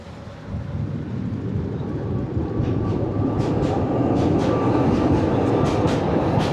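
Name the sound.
tram crossing a bridge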